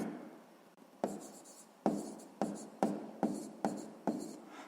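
Pen strokes on paper while a sixth-grade math answer is written down: a series of short, distinct scratchy strokes in a steady rhythm, close and fairly quiet, with no talking.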